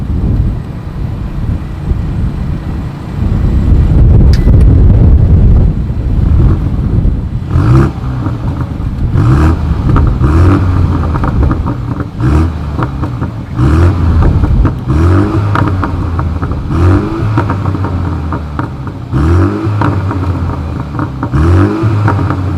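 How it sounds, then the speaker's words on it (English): A 2020 BMW M235i Gran Coupe's engine revs hard several times in a row, sharp exhaust bursts rising and dropping over a rumbling idle, loud and close. "here is that exhaust clip."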